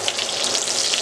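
Beef steak sizzles steadily in a hot pan with garlic while being basted, a dense continuous hiss and crackle, close and fairly loud with no pauses.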